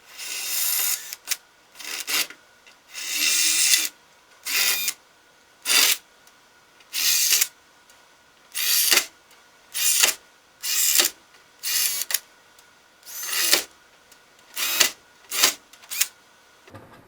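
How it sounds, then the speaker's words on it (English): A drill bores out stainless steel rivets on a Challenger 2 ultralight seat pan in about a dozen short, harsh grinding bursts with brief quiet gaps between them, loud and close. "get the drill out, and drill out the rivets for that seat pan"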